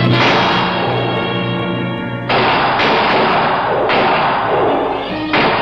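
Gunfire in a Frankenstein film scene, loud sharp shots with booming thuds that break over a dense background score, several reports spaced a second or so apart.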